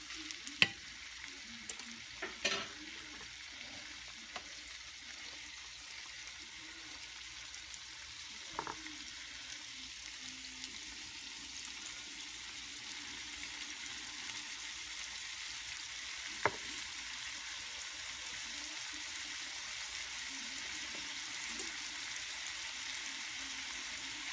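Steak browning in a hot pan gives a steady, moderate sizzle throughout, with a few sharp pops and clicks near the start and midway.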